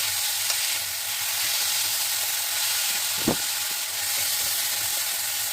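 Steady frying sizzle and hiss of grated radish in a pan, with a brief scrape or clink partway through as it is stirred.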